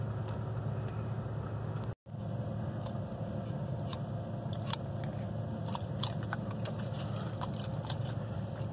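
Biting and chewing a chicken finger inside a camper, with crunchy bites and crackles over a steady low engine rumble from the moving vehicle, close and fairly loud throughout.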